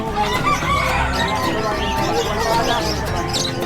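Roosters crow and chickens cluck at a busy livestock market, several birds calling close together over a background murmur of people talking.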